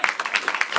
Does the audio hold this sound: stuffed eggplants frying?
no